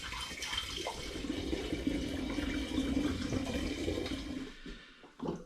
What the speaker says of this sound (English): I'm going to put about 2 litres of water into the demijohn.